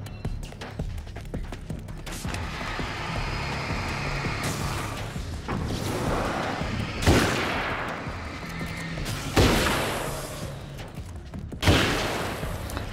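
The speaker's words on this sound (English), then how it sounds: "This gunfire's so slow." Several loud, sharp bursts of gunfire in the video game Alan Wake's American Nightmare, spaced a few seconds apart over a steady rumbling backdrop, with no talking.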